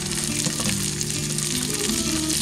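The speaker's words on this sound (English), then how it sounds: "we'll put some butter in here." Butter melts in a hot Instant Pot insert, giving a steady close hiss and crackle of sizzling with no pauses over a couple of seconds.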